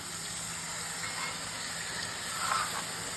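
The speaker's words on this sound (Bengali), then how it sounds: "এবার জল ঢেলে দিচ্ছি" Water is poured into a simmering spice paste of tomato, onion, garlic and ginger in a pan, giving a steady soft steamy hiss throughout with faint bubbling, at low volume and with no talking.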